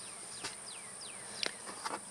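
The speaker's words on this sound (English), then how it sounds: "Well, there's still bees" Honeybees buzz around an open hive outdoors, with several quick insect fly-bys sweeping past close to the listener over a steady, faint background drone.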